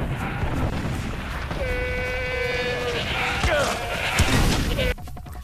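Goats bleat amid busy game action in Far Cry 4, with a drawn-out wavering cry rising over continuous noise and scattered thuds.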